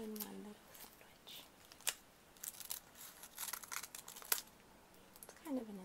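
Close, quiet scissor snips and papery crinkles come from cutting through a stacked layer of tissue paper, green mesh, cardboard and Sephora bag paper, in irregular crisp bursts, with a soft voice briefly at the start and end.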